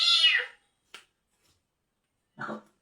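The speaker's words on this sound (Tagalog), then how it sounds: "Pasensya na kayo, maingay ang mga cat ko." House cats meow indoors, a clear, high, falling cry up close, then a faint chirp and a lower, rougher mew after a quiet gap.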